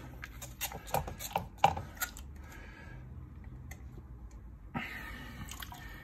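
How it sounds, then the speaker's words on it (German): A hand reaches into water to pull the propeller out of a pump being cleaned of calcareous algae, giving scattered drips, small splashes and light plastic clicks, quiet and close with no talking. "Ich greife da mal rein und hole mal den Propeller raus."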